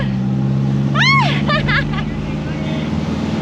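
Car engine running steadily with passengers riding in the back, a close constant drone, with people talking loudly over it.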